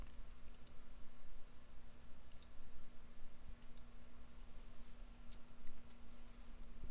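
A computer mouse clicks in sparse, faint single clicks at irregular intervals against a quiet room hum, with no voices.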